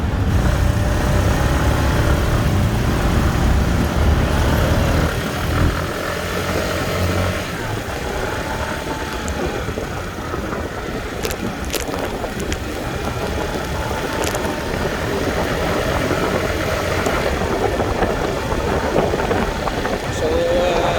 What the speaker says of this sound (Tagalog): ganda ng tunog ng makina niya guys, dahil na linisan na yung air cleaner niya